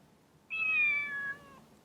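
A cat in the Detective Conan anime gives one clear, drawn-out meow lasting about a second. The meow is loud and close, with near silence around it.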